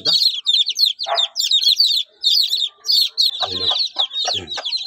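A flock of chicks peeps in rapid, high, overlapping bursts close by while a hen clucks low underneath, with a brief spoken word.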